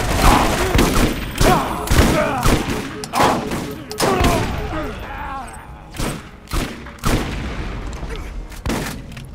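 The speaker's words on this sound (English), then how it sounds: "Why are you shooting me?" Heavy bursts of gunfire from the Borderlands video game, rapid volleys and single loud shots in an uneven, near stream with thumps and mechanical clanks, and a voice speaking briefly between the shots.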